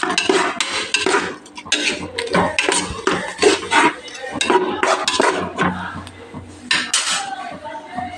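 Ginger garlic paste, coriander paste and ground mint paste are mixed in a pot for mutton biryani, with repeated close metallic clanks and scrapes of a spoon against the pot in an uneven rhythm.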